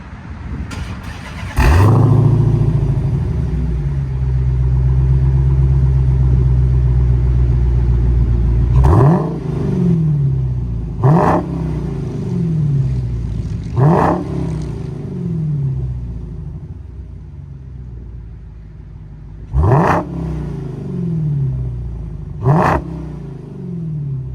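A 2022 Dodge Challenger Hellcat Redeye Widebody's V8 starts with a roar, idles with a deep burbling rumble through dual exhaust, then revs sharply several times in quick bursts, loud and close.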